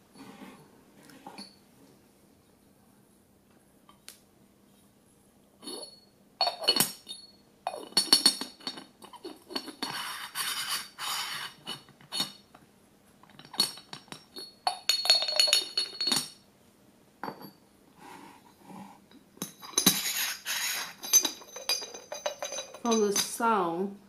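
Red clay teapot tapped and clinked in short bright ceramic taps, scattered in irregular clusters with quiet gaps, close and fairly soft.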